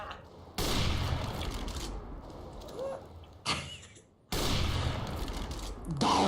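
Loud automatic gunfire in Counter-Strike: Global Offensive competitive play, with long sustained bursts broken by short pauses and a final burst, sharp and close; a faint voice is briefly audible between the shots.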